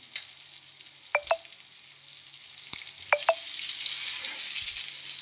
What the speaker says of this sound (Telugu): ఇప్పుడు స్టవ్ నుంచి కళాయి పెట్టి ఆయిల్ పోసి ఆయిల్ బాగా మరగాలి.